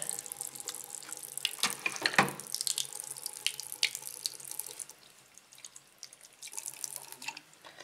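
Water runs from a tap over a garment freshly painted to look like branded clothing, a steady close splashing rinse with irregular drips and spatters and a quieter stretch midway.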